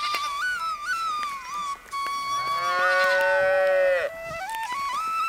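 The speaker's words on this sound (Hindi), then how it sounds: "और सभी गाय और बकरियों को लेकर जंगल चला जाता है।" Cows in an animated Hindi story moo loudly and close, several long drawn-out calls that rise and fall, one overlapping another, with no voices over them.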